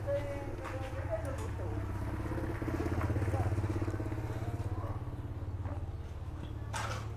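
A 2017 motorcycle, either a Z250 or a PCX150, idles with a low, steady engine hum that swells slightly midway, running under continuous nearby talk.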